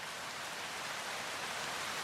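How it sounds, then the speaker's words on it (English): Steady rain falls in an even, soft hiss, faint and continuous, with no breaks or voices. "We have noise from rain,"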